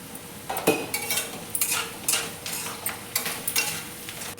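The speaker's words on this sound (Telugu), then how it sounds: "ఆనియన్స్ బాగా వేగిపోయినవి." Onions and green chillies fry in a pan, a bright steady sizzle punctuated by repeated clinks and scrapes of a utensil stirring, close and clear with no talking.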